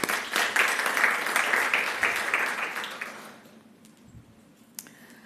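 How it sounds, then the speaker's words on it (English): Audience applause after a talk at an academic session on computational modelling in health, many hands clapping for about three seconds before fading quickly into a quiet room with a faint thump afterward. "Can we give him a round of applause, please?"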